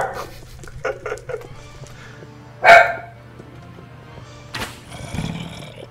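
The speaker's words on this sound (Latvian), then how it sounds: "Sveicies no manu suņu!" A dog barks a few times, sharp and fairly close, with one loud yelp standing out over a steady low hum and light room noise. No one speaks.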